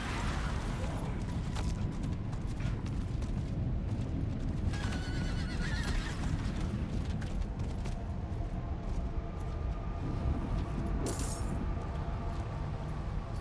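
A horse in the Diablo IV video game neighs and whinnies amid clip-clopping hooves, jangling tack and dense game sound, loud and continuous throughout.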